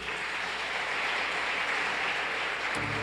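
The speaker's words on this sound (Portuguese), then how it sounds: "Dê mais um forte aplauso para Jesus." A church congregation clapping together, a steady wash of applause at moderate, somewhat distant loudness that continues evenly for a few seconds before a sudden shift near the end.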